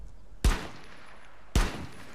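Two sharp, loud gunshots from a first-person shooter video game ring out about a second apart, each with a short echoing tail and quiet in between.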